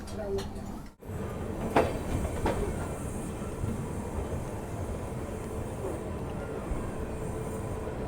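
A deluxe Bharat Gaurav Buddhist Circuit tourist train runs along the track, a steady rumbling roll heard from inside with a few faint clicks and a brief dip near the start.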